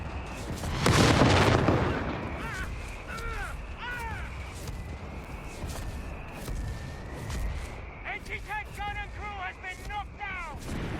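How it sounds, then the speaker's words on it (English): Mortar fire in the Company of Heroes 3 battle for El-Alamein, a heavy boom early on followed by battlefield rumble, with chirping bird-like tones and distant shots layered over it. "Just going to let the mortar finish it."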